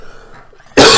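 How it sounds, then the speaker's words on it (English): A single loud, abrupt cough bursts out near the end, close and harsh, after a stretch of quiet, muffled background sound. "Damn this cough."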